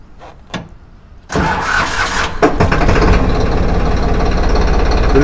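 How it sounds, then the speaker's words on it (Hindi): A Swraj 963 FE CRDI tractor diesel engine cranks and catches after a couple of clicks, then settles into a loud, steady, chugging idle close by. "अब हम आपको ट्रैक्टर की जो आवाज़ है वो सुनवा देते हैं"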